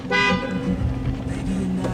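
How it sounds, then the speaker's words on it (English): A 2013 Dodge Charger police car's horn gives one short, loud honk up close, then its 5.7 HEMI V8 idles quietly underneath. "Honk works."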